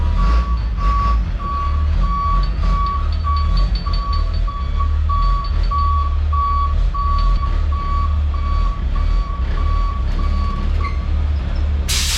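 A truck reverses with a steady, evenly pulsed backup beeper sounding throughout over a loud, low diesel engine rumble, while it backs up to hitch a wood chipper.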